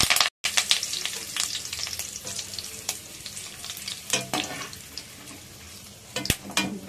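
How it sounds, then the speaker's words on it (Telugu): Curry leaves dropped into hot oil in a pan with the gas turned off, giving a crackling sizzle with sharp spattering pops and stirring, close and moderately loud, fading and flaring in bursts. "ఈ వేడి నూనెలో మనం కొద్దిగా కరివేపాకు వేసుకుందాం"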